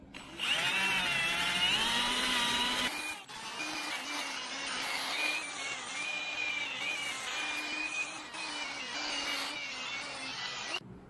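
A power tool with an abrasive pad whirs steadily while polishing a metal front disc brake axle part of a Toyota Land Cruiser FJ40, a high grinding whine with a brief dip partway, then continuing evenly and fairly close.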